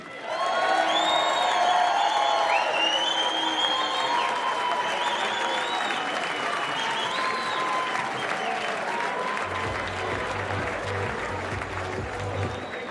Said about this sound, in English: a massive round of applause for your finalist, Ireland's Adam D.